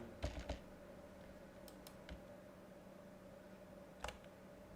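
Computer keyboard keys pressed on a quiet desk, a few sharp clicks in small clusters separated by pauses, over a faint steady fan-like hum.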